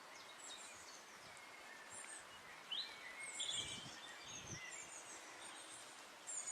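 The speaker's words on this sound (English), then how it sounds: "Off to the right hand side at the moment is some quite noisy blue tits" Blue tits beside the River Teifi give faint, high, scattered calls over a steady wash of background noise, sounding somewhat distant with brief bursts now and then.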